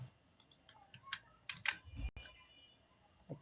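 Computer keyboard typing during AutoCAD drafting: scattered close key taps and clicks, irregular, with one sharper thump near the middle and quiet gaps between.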